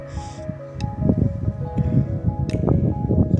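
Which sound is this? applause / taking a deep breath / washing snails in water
washing snails in water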